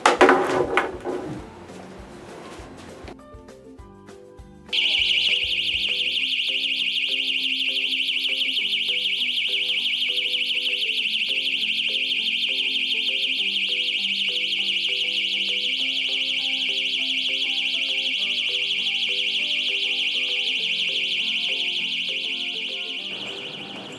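A panic button alarm in an emergency-response setting sounds as a loud, steady, high-pitched tone that holds unbroken for about twenty seconds. A few faint knocks come just before it.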